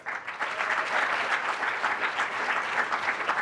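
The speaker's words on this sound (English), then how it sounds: "Please give them a round of applause" Steady, dense audience applause at the 2018 McSilver Awards ceremony, loud and continuous clapping from a large crowd with no pauses, carrying evenly from start to finish.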